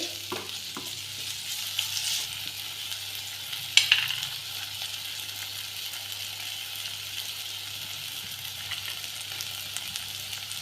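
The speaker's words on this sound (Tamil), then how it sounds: "மிளகா தூள் கரம் மசாலா உப்பு போட்டு வதக்கிட்டு" Onion, tomato, chili powder, garam masala and salt sauté in a pan for soya gravy, a continuous close sizzle with occasional scraping stirs and a sharp clink midway.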